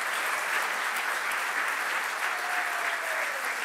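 A studio audience at a live sports talk show applauds steadily for the whole stretch, a dense, even wash of clapping with no break and no voices standing out.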